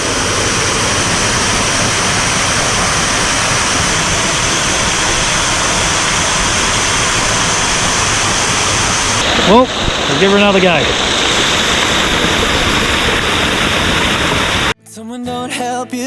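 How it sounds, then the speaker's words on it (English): Waterfall pouring into a swimming hole along the Gibb River Road, a steady broadband rush of falling water that fills the whole clip, with brief speech partway through and the water cutting off abruptly near the end. "Might swim over underneath the waterfall."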